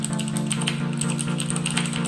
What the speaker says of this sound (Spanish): La única inconveniencia de estos teclados es que emiten un ruido regular, son bastante ruidosos.